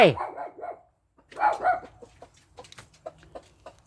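A dog barks repeatedly in a yard where chickens are also clucking; sharp nearby barks open the clip and return after a short pause, then break into scattered yaps mixed with fowl sounds.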